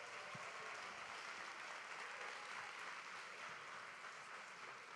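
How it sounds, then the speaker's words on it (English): Sustained applause from a large audience at a Pelotonia cancer-research fundraising event, a dense, steady wash of many hands clapping at once that holds at an even level throughout without any talking. "So give yourselves a round of applause."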